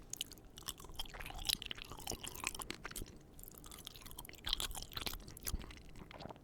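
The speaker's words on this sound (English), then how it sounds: "The noodles don't really last in your mouth very long. They're very easy to chew through and swallow" Close-up wet chewing of soft pasta noodles, with steady moist mouth clicks and smacks repeating throughout, intimate and quiet with no talking.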